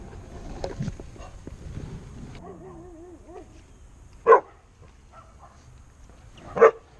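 A dog barks at a cow outdoors near muddy water, with two sharp loud barks spaced a couple of seconds apart after quieter whimpering and low background noise.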